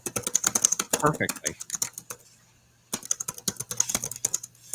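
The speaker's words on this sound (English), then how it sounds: "I can hear you typing." Rapid clicking keystrokes on a computer keyboard come in quick bursts, pause briefly, then resume. They are heard over a video call while a voice speaks between the bursts.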